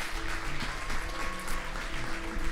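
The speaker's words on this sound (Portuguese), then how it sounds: "você pode aplaudir a Jesus por isso" A church congregation applauding after an offering announcement, a sustained wash of many hands clapping at moderate volume with no break across the short span.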